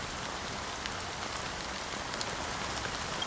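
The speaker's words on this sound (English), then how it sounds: "how long has this rain been going on for?" Steady rain falls in the video game Honkai Star Rail, a soft continuous patter on surfaces with scattered droplet ticks, moderately quiet and uninterrupted throughout.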